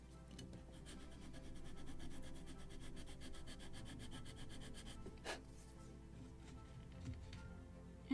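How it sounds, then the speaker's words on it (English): Steady rhythmic rasping of a sanding block rubbed back and forth over wooden planking on a model ship, close up, with a brief knock partway through. "needs more sanding."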